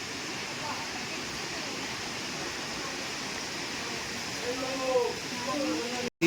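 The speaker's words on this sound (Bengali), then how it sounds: "এখানে 7টা ঝর্ণা এসে মিলে এই ঝর্ণাটা পড়ছে।" Waterfall fed by seven merging streams near a temple in Similipal, Odisha, heard as a steady broad rushing roar with faint voices briefly in the background.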